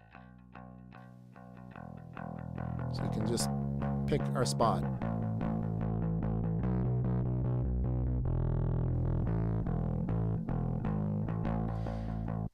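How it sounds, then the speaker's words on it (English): Isolated distortion from a Vertigo Sound VSM-4 saturation plugin: distorted, gritty tones with buzzy harmonics play as a sustained, saturated musical line, with a brief spoken remark near the start. "we're listening to just the distortion"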